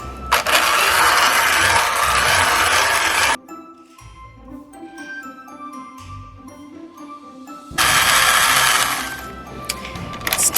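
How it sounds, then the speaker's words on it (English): An electric hand mixer beats chocolate chip cookie dough in loud bursts of whirring, pausing for several seconds of quieter clatter before roaring up again. "I'm gonna put the beaters back on this mixer and see what happens."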